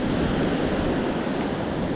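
Ocean surf on the Newquay stretch of the North Cornwall coast, a steady broadband wash of breaking waves with wind buffeting the microphone, continuous and fairly loud with no voices.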